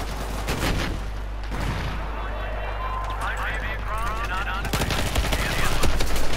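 Rapid bursts of automatic gunfire crackle in Battlefield 4 gameplay, with dense repeated shots, some distant explosions and a busy battlefield mix, loud and continuous throughout.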